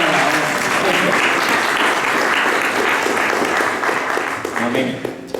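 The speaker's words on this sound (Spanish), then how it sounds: "Los aplausos son para el Señor, mi hermano" A church congregation applauds during a Sunday service, loud sustained clapping from many hands filling the room and gradually thinning out at the end, with voices mixed in.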